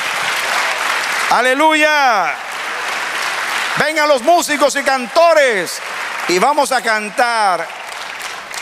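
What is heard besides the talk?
congregation applauding in church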